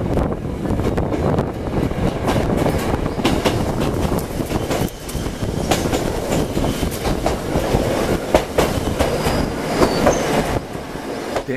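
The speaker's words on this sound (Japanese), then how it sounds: "電車は住宅の間を通りながら足利島駅へと到着します。" A Choshi Electric Railway train rolls between houses into a small station, wheels clattering and squealing on the rails with steady close rumble and a few sharp screeches, no voices.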